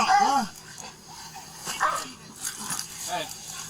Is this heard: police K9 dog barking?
yes